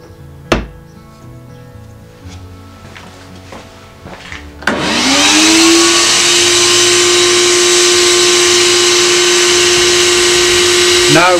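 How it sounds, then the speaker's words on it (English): A dust extraction vacuum switches on with a rising whoosh and settles into a loud, steady high-pitched roar while drilling with a UJK pocket hole jig; a voice speaks briefly and a sharp click comes before it starts. "I'm now, for the next one, going to turn on the dust extraction."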